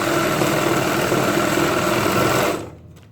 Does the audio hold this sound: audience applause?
no